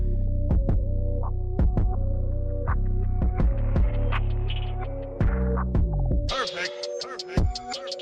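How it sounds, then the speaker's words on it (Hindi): An offset printing press runs banknote sheets at speed in a currency factory, giving a steady mechanical hum with rhythmic throbbing pulses and clanks, loud and close, with no talking. "और अब देखिए कितनी स्पीड से इन शीट्स पर प्रिंट छाप रहे हैं।"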